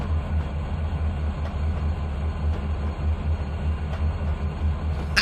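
A train running on a mainline track in the railway game Trainz 2019, giving a steady low rumble of rolling wheels with faint periodic clicks and no voices.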